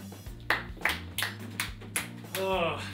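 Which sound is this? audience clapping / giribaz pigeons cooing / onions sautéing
audience clapping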